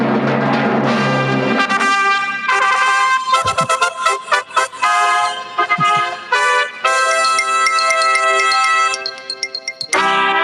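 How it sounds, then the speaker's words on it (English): A bright, musical fanfare sound effect on a podcast plays as a quick run of chiming, tonal notes building into sustained, ringing chords, loud and clear with no talking over it. "Yes, that's the sound of the fanfare."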